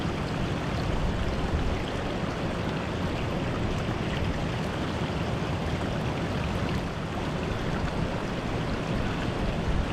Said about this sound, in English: That's good glacier water.